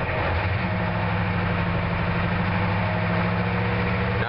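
A diesel engine with a DB2 injection pump and a cold timing advance issue idles with a loud, close, steady rumble and a rhythmic knock, heard alone throughout.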